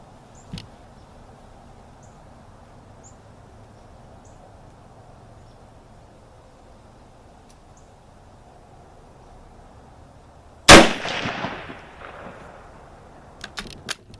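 A single loud, sharp Kar98k Mauser sporter rifle shot, fired with a Hornady 170-grain round-nose load over IMR 4166 powder, cracks out of a quiet outdoor range and trails off in a short echo, followed by a few faint clicks.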